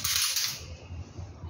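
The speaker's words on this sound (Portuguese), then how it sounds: "e faz um único disparo." A single shot from a firearm during an armed-escort training course, a sharp loud crack at the start that decays quickly into a faint low rumble of background noise.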